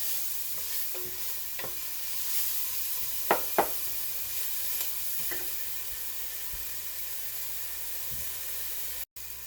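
Food frying in a pan at home dinner cooking, a steady broadband sizzle running throughout with a few sharp stirring clicks and scrapes, close and moderately loud, no talking.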